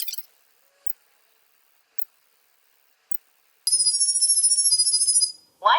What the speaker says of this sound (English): I'm going to select Send Sound Waves.